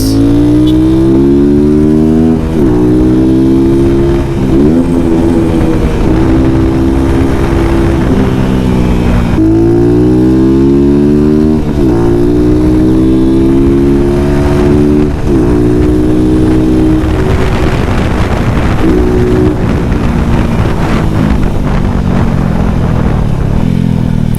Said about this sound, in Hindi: पुल अच्छा है बाइक का, मज़ा आता है, फील करवाता है कि पावर है इसमें, 200 सीसी की पावर है।